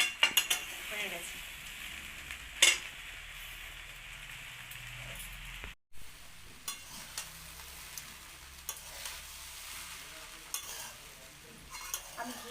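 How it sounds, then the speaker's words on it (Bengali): A spoon scrapes and clinks against a wok as ghee is stirred into fried rice off the heat, with a faint sizzle underneath, a sharp clatter near the start and a short gap midway. "আমি কড়াটা নামিয়ে ঘিটা মিশিয়ে নিচ্ছি।"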